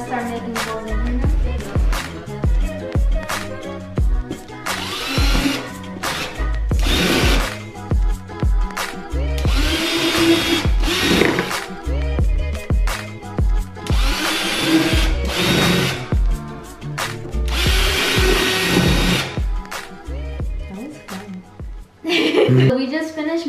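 A power drill bores holes in cardboard for a festival totem pole, whining loudly in repeated bursts with short pauses between them, while someone talks over parts of it.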